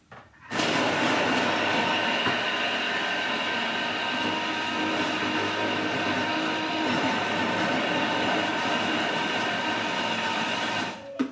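A loud food processor whirring starts abruptly, runs steadily for about ten seconds with a chopping clatter as it chops vegetables, then stops.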